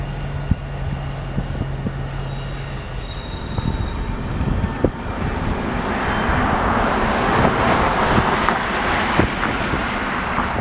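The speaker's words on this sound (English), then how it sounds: "he's driving a lower powered locomotive" Freight train hauled by a lower-powered locomotive, passing as a steady loud rumble of rolling cars with a low engine hum early on that swells into broad wheel and rail noise.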